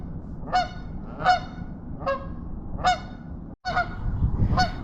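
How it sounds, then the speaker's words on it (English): Canada geese along the Columbia River honk repeatedly in a steady series of six loud nasal calls, spaced roughly evenly, close and clear over outdoor ambience. "These Canada geese are so obnoxious,"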